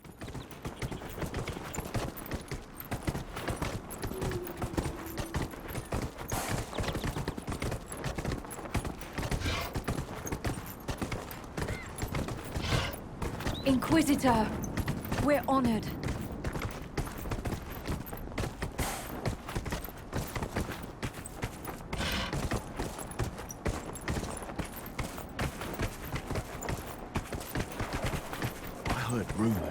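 Rhythmic clip-clop of a horse mount's hooves in the game Dragon Age: Inquisition, steady trotting beneath a voice speaking and a busy bed of ambient game sound, with a louder swell midway.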